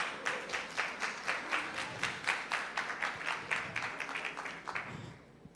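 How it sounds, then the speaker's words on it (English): Audience applause at a women's economic forum in Kenya: a round of clapping with distinct individual claps in a steady rhythm, moderately loud and fairly close, fading out near the end. "Please let's give her a round of applause."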